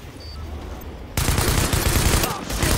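Gunfire in the video game The Division, a sudden burst of rapid automatic shots that starts partway through and continues densely, loud and close, over quieter game ambience.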